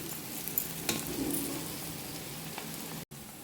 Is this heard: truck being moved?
no